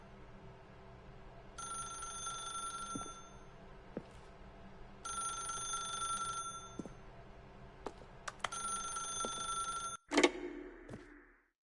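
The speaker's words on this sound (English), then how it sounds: "then pick up the phone" A telephone in The Stanley Parable rings in three or four long bursts separated by short pauses, with faint clicks and taps between rings, then ends in a brief clatter as the handset is lifted; nobody speaks.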